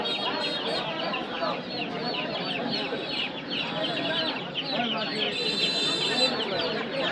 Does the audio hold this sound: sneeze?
no